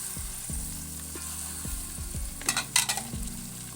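Finely chopped tomatoes, two medium ones, hit fried ginger garlic paste in a pan for palak methi chicken, a steady close sizzle with a few scraping stirs and a louder burst as they land.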